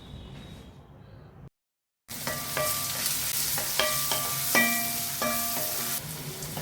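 Onions sauté in a pan for a chapati gravy with peas and potato, giving a steady close sizzle and sharp metallic clinks of a spoon against the pan, after a brief cut to silence.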